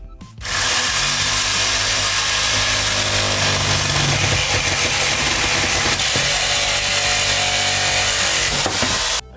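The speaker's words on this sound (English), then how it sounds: "use a reciprocating saw just to cut the nails that go through" Reciprocating saw fitted with a metal blade cutting through the nails in pallet wood, a loud continuous buzzing drone that starts abruptly, runs steadily for about nine seconds, then stops, with no talking.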